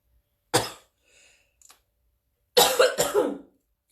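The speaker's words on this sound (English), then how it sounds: "I don't know why I keep coughing." A woman coughs in short bursts: a single sharp cough, then a faint throat sound, then two loud coughs close together, near and alone.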